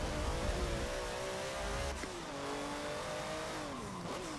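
An older Porsche racing car in Forza Motorsport 7 revs hard and loud, its engine pitch rising and dropping through gear changes with brief tire squeal, no voices.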